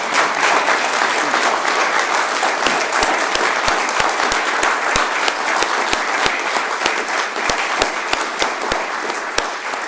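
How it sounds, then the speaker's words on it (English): An audience at a mayor's news conference gives a sustained round of applause, with dense clapping that stays loud and even for about ten seconds. "let's give them all a big round of applause"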